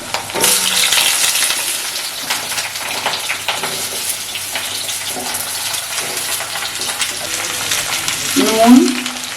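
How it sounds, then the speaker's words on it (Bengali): Potatoes frying in hot oil in a wok (kadai) for a Bengali small-potato alur dom, a steady sizzling hiss with stirring and scraping throughout, swelling louder near the end. "তেলটা গরম হয়ে গেছে, এবার আলুটা ভেজে নেব।"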